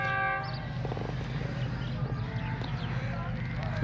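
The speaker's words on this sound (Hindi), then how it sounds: "स्पीड बना रही है ट्रेन" Khyber Mail passenger train, led by a G40 locomotive and bound for Karachi, gaining speed after a stop at Kot Radha Kishan station. A continuous heavy rumble with rhythmic wheel clatter and a steady horn-like tone runs throughout, close and loud.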